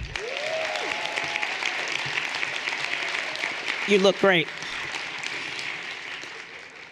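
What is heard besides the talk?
audience round of applause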